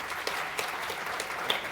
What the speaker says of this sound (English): can I just ask a quick round of applause here for the audience,